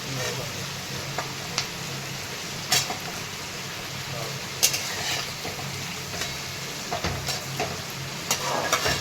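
Cluster beans (gavar) and garlic sauté in a pan with a steady close sizzle and frying hiss, punctuated by occasional stirring scrapes, under a faint background voice.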